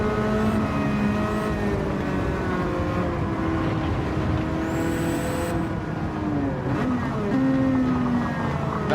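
A 350-horsepower race car's engine roars steadily in a racing video game while chasing an S15, its pitch climbing and dropping through gear shifts at close range with no pauses.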